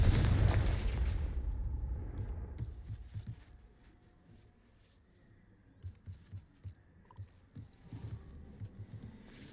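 Confringo fire spell in Hogwarts Legacy, a heavy booming blast at the start that decays, followed by a string of smaller thuds and crackling impacts.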